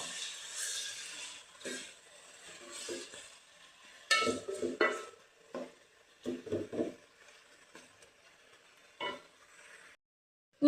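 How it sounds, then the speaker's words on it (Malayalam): Chicken chili being stirred in a frying pan, a soft steady sizzle broken by uneven scraping and clinking bursts of spoon against metal, fairly quiet and close, with no talk. "നന്നായിട്ടൊന്ന് ഇളക്കി കൊടുക്കാം."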